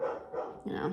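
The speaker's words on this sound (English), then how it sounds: "sorry for the dogs." Dogs bark indoors in a few quick yips and barks, fairly close and mixed under a person speaking.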